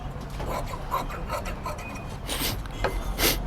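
Leftover fabric from blouse piping is trimmed away, producing close rasping, rubbing strokes and a couple of sharper snipping bursts toward the end, with no voices present.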